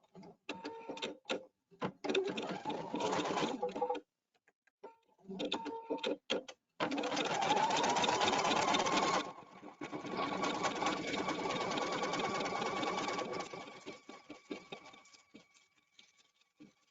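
A Pfaff/Viking sewing machine tacks down quilt batting in short stuttering bursts, then longer steady runs of whirring stitching, close and fairly loud, separated by brief silences.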